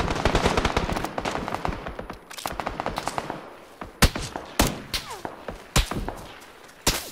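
Rapid bursts of automatic gunfire crackle through a squad match in a multiplayer shooter, dense volleys at first then thinning into sharp isolated shots and short rattles, fairly close and loud with no voices over it.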